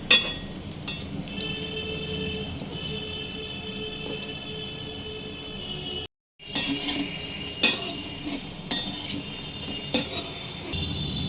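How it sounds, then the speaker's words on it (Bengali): Jackfruit pakoras frying in hot oil over a medium flame, a soft steady sizzle broken by several sharp clinks and scrapes of a utensil against the pan, with a brief dropout midway. "মিডিয়াম ফ্লেমে সোনালি রং ধরে আসার পর্যন্ত উল্টে পাল্টে আমি ভেজে নিয়েছি"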